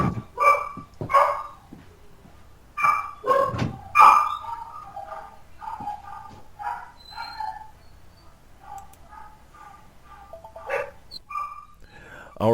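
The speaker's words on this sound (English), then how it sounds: "if you hear dogs in the background" Dogs bark and yip in the background during a home recording, in repeated short bursts that are loudest early on and then come more sparsely, mixed with faint whimpers.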